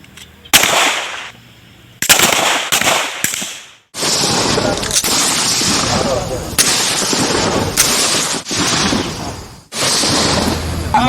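Gunfire at a navy shooting practice with soldiers of a warship and naval base, loud sharp shots in bursts and clusters, some single and some rapid strings, with voices calling out between them.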